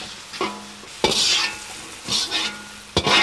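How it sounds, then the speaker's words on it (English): Capsicum strips stir-fry in a hot pan for a sweet pepper pork dish, sizzling loudly in bursts while a utensil scrapes and tosses them in a quick, uneven rhythm. "next into the pan goes the capsicum. Again, stir cook for a minute or so"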